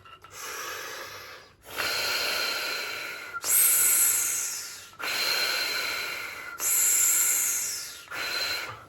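Repeated long exhalations of forced breath, each starting strong and tapering off as the air runs out, separated by short sharp inhales.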